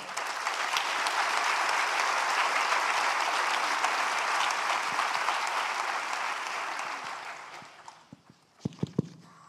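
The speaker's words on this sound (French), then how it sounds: "Je vous demande de les applaudir, s'il vous plaît." Sustained applause from a conference audience during a plenary session, a steady dense patter of many hands clapping for about eight seconds before fading into a few scattered claps and faint room noise.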